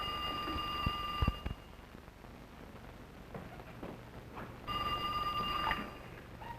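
An old telephone bell rings twice, a bright trilling burst at the start and another near the end, separated by a quiet gap with soft background rustle.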